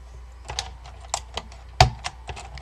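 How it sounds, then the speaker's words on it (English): Keycaps clicking and snapping onto an Alps-switch Focus FK-2001 keyboard during restoration, a handful of sharp close plastic clicks with one louder snap standing out in quiet. "It does still at least snap into place"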